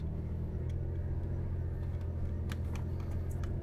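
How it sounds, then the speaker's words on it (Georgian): An off-road car climbs a steep mountain track in gear on the way to the Ialghuji cross, its engine a steady low rumble held close throughout with no talk. "რა მაგარია თავისით რომ მიდის მანქანა აღმართზე."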